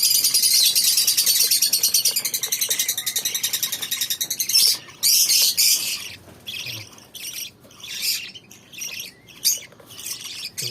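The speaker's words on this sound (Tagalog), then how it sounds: "Meron na naman akong dalawang pisa na parrot." Newly hatched parrot chicks squawk loudly in a dense, rapid chorus of harsh calls close by, breaking into shorter bursts later.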